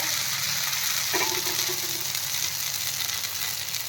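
Steady, close sizzling of a mudakathan dosa frying on a hot pan just after being flipped, continuous and fairly loud with no talking.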